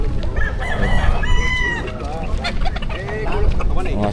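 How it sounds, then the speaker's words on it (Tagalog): Chickens and roosters in cages at the Bocaue pet market crow and cluck loudly and close, several birds overlapping, with faint voices in the background. "Tinanghali na tayo, konti na lang ang mga manok."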